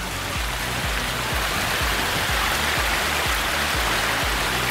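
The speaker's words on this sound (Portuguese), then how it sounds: "A água de degelo da montanha transformando esse rio aqui." Mountain meltwater river in Torres del Paine rushing steadily, a loud, dense broadband roar of flowing water that holds constant throughout with no voices.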